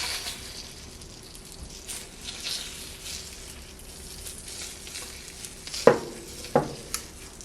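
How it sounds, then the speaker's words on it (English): Mac and cheese batter sizzles in a Dash Mini waffle maker, a soft steady crackle and fry, with a couple of sharper clicks and taps near the end. "Now let's put our batter in."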